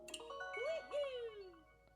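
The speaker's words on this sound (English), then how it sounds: "You got the little Mario chime again." A short electronic chime melody from a Nintendo Alarmo alarm clock, the Mario chime, plays bright and tinkly with rising and falling notes, moderately quiet against a faint background hum.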